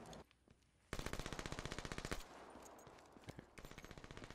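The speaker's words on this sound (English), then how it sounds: "I'm getting shot at." Rapid automatic gunfire rattles in a steady, closely spaced string of loud shots during a search and destroy video game match, then gives way to scattered, quieter single shots.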